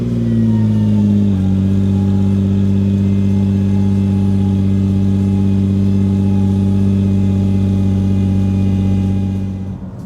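Nissan GT-R NISMO N Attack running on the road, a steady loud engine drone with strong low harmonics after a brief early shift in pitch, continuous and close until it eases off at the end.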